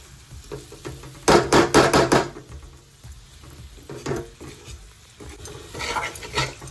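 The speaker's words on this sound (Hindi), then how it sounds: "एबे हमें जो अंडा काट के रखी थिलु सीझा अंडा से को पकाइबा। पकई के ताको हल्के हाथ रे चलाइबा।" Halved boiled eggs are stirred through sizzling masala in a pan, with a quick burst of scraping, clattering strokes followed by softer intermittent stirring over a steady frying hiss. No voices.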